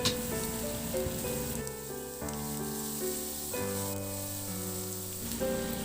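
Onions sauté in a pan for Filipino creamy sipo, giving a steady, soft sizzle that sits under prominent background music, with no voices.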